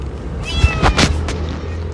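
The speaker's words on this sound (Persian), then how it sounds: "نه این مامان گربه." A hungry mother cat meows near a house door, a couple of close, loud, drawn-out cries standing clear of the quiet background.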